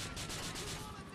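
Grand Theft Auto IV gunfire rattles in a quick rhythmic burst of shots, fairly faint and distant, over a short moment of background game noise.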